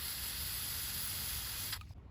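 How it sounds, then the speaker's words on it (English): Spray paint hisses steadily from an aerosol can in one continuous close burst while black paint is sprayed over a space-themed painting, cutting off near the end. "Spray everything with black."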